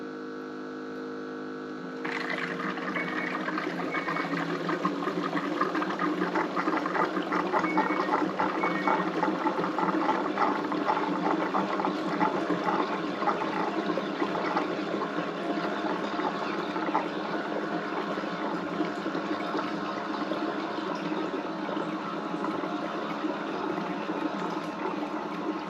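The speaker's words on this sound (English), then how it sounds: "Looks like it's probably going to draw a pretty full container of water." A Capsule countertop dishwasher fills with water: steady rushing water runs continuously after a brief quiet start, a constant filling flow with a low machine hum underneath.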